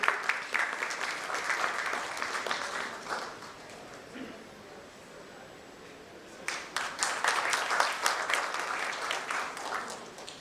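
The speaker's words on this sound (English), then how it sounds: "we also have a really loud round of applause for our session moderator" At a leadership summit panel, an audience claps loudly for the session moderator, the applause fading to a lull with a few voices before a second strong burst of clapping returns.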